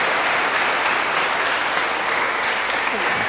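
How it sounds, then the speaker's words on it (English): An audience at a live referee webinar gives a warm round of applause, a dense continuous clapping that holds steady and fairly loud for a few seconds. "please join your hands in giving her a warm round of applause, Karen."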